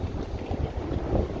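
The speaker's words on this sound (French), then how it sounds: "J'espère que le vent est pas trop fort là." Wind buffets the microphone on a street in the Sakae district of Nagoya, Japan, producing a continuous low, rumbling roar with irregular gusting swells.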